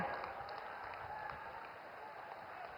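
A crowd applauds at a political rally in Bihar, a dense, steady wash of clapping that holds evenly throughout without voices standing out.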